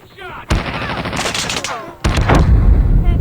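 Loud Call of Duty gunfire erupts in bursts, a sudden blast at the start, then dense rapid shots and a second heavy volley, close and punchy, with game voices shouting underneath.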